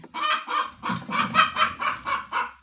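Hens in a backyard coop cackle loudly after laying eggs, giving a run of about eight rhythmic, close squawking calls with no talking over them.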